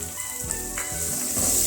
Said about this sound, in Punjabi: ਪਿਆਜ਼ਾਂ ਨੂੰ ਆਪਾਂ 3-4 ਮਿੰਟ ਵਾਸਤੇ ਭੁੰਨਾਂਗੇ